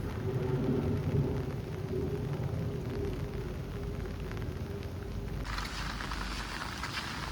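Heavy monsoon rain pours steadily at Kondeshwar Temple in Badlapur, a dense continuous roar with low rumbling thunder beneath, and the downpour brightens and intensifies near the end.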